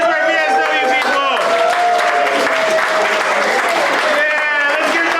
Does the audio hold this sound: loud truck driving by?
no